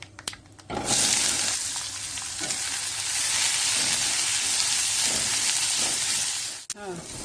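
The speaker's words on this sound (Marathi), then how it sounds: "कढीपत्ता घातल्यानंतर आता कांदा घालायचा।" Onion drops into hot oil with mustard seeds and dried curry leaves and bursts into a loud, sustained sizzle that runs steadily and close, with a few light clinks and a brief knock near the end.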